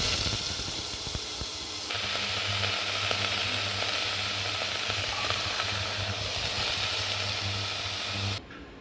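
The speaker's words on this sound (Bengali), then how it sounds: "এবার ডাঁটা আলুটা ভেজে নেব" Vegetable stalks and potatoes fry in hot oil with a steady, loud sizzle and hiss, close up. The sizzle keeps going without a break and cuts off sharply at the very end.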